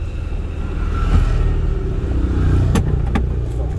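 A driving school car sits stationary with its engine running, a steady low rumble throughout, with a few faint clicks near the end.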